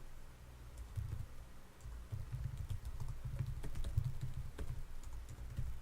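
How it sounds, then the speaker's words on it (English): Slow, unhurried typing on a computer keyboard: separate key clicks and taps come in an uneven rhythm, close and clear over a steady low hum, with no talking. "You can listen to how slow my typing is."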